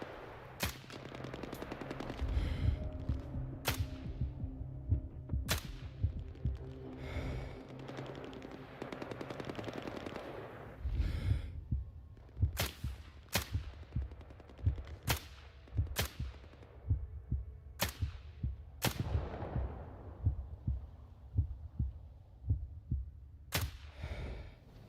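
Video game gunfire, scattered sharp single shots and short bursts spaced irregularly over a quieter background rumble, fairly close and crisp, with no talk over them.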